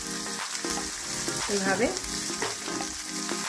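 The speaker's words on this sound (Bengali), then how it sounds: "এবার এটাকে একটু ভালো করে আমি একটু ভেজে দেব।" Garlic and other ingredients fry and are stirred in a pan for a paneer and fresh coriander gravy, making a strong, close, continuous sizzle with scraping stirring sounds, and a voice briefly speaks.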